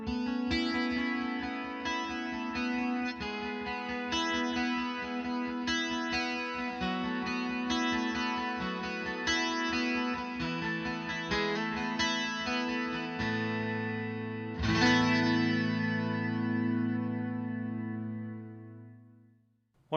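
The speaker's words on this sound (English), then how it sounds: "How about this? How about an acoustic 12 string?" Strummed and picked chords from an acoustic 12-string guitar emulation on a James Tyler Variax, with a bright, shimmering doubled tone, ending in a long sustained chord that fades away.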